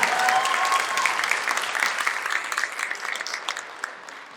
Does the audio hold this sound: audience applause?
yes